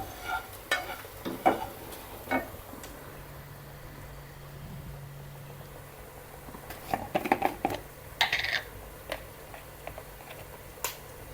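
Onions fry in a pan while a spoon stirs them, giving soft sizzling with scattered scrapes and clicks as turmeric is added, close and fairly quiet with no talk.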